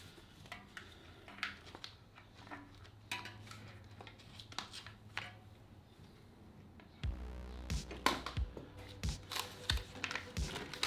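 Packaging ties are cut off a new Schwinn mountain bike, giving a string of sharp snips and plastic clicks, some crinkling, and a low hum in the background.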